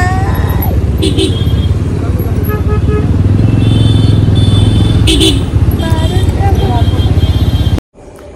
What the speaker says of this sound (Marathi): तिकडे पण ट्रॅफिक, इकडे पण ट्रॅफिक